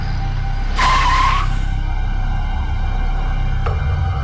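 A car brakes to a stop on a road, giving a short, sharp tire squeal over a steady engine rumble, which then settles into an idling hum.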